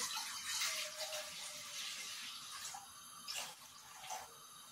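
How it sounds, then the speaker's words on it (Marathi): Water runs from a tap into a large kadhai in a steady, splashy stream, close and moderately loud, with a few brief surges in the flow. "तर आता या कढईमध्ये मी थोडं पाणी गरम करायला ठेवते"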